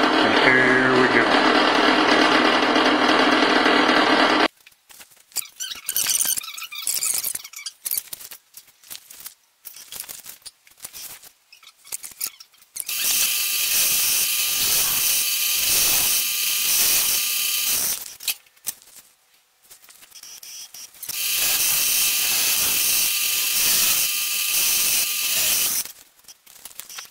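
Tapping a 6mm thread with a Craft 6mmX100 tap and a dollop of tapping oil into a CNC machine steel frame, heard as quiet intermittent scraping and clicking between two long stretches of steady loud broadband noise, close by.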